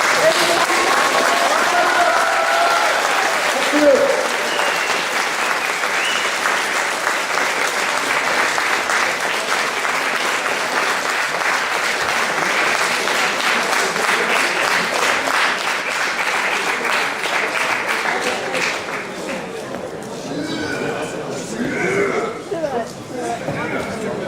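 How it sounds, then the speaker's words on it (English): Sustained applause from a convention audience fills most of the stretch, steady and loud before tapering near the end, with a brief spoken thanks. "Can we get tons of applause?"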